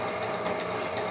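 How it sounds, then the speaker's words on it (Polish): A workshop drilling machine bores on its own through thick 12 mm steel plate, giving a steady faint mechanical whir with light rhythmic ticking and clicking from the cutting, with no voices. "Maszyna sama wierci, prawda?"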